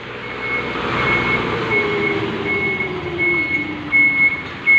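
A truck reverses in the early morning, its steady high reversing beeps repeating evenly over a loud, continuous diesel engine rumble that swells briefly near the end.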